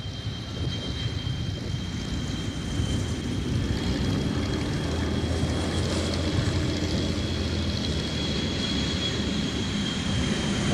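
A KC-135 four-engine jet aircraft on its takeoff roll, roaring steadily at a distance, a broad rumble with a thin high whine holding throughout.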